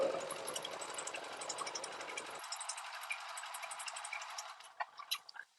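A sewing machine runs stitches, whirring steadily at close range with a fast mechanical buzz, then drops to a thinner hum with a few sharp clicks near the end.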